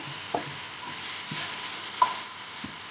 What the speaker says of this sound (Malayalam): കുറച്ച് പഴവും തേങ്ങയും കുറച്ച് പഞ്ചസാരയൊക്കെ ഇട്ടിട്ട് വഴറ്റിയിട്ട് റോളാക്കുകയാണ്